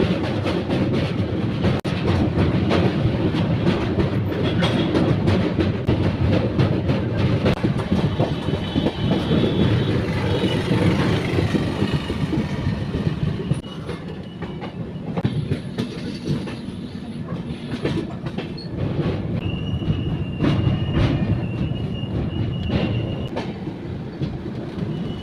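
Bhavnagar–Kakinada Port superfast express rolls onto the Krishna river bridge, heard from on board: loud continuous rumble with rapid clickety-clack of wheels over rail joints, easing midway, and thin metallic squeals from the wheels later on.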